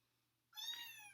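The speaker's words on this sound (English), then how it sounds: "This is the cat." A cat named Elliot gives a single clear meow, close and fairly loud, rising suddenly out of a near-silent room and holding for about half a second.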